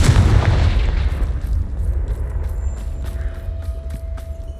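A Confringo fire spell explodes in the Hogwarts Legacy video game, a loud booming blast that rolls off into rumbling debris and creaking, followed by faint clicks and a lingering tone.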